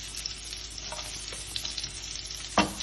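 Onions and green chili fry in a pan with a steady close sizzle and crackle. Light stirring is heard, and a sharper clack comes near the end, with no talking.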